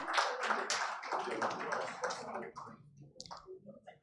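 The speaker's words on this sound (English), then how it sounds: "A round of applause, ladies and gentlemen." Audience at a panel session of a business and health forum breaks into dense, steady clapping that fills the room, then thins out and fades after a couple of seconds.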